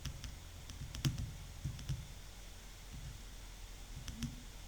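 Light, sparse keystrokes on a computer keyboard while entering a COUNTIF formula into an Excel spreadsheet, a handful of soft clicks spread irregularly over a quiet background with no talking.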